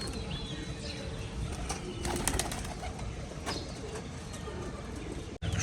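Pigeons in a loft, a black-checker cock chasing a hen, with soft intermittent cooing amid rustling and several bursts of wing flapping, close and busy throughout.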